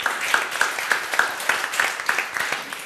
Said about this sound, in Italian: Facciamo un in bocca al lupo con un applauso.